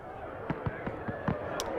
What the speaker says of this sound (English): Detonating fireworks.